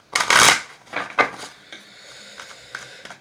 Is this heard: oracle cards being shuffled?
yes